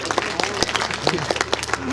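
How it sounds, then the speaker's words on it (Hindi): An audience at a comedy poetry show claps in a short, uneven burst of applause, close and fairly loud, with a voice faintly underneath. "तालियां एक बार भैया के लिए बजा दीजिए।"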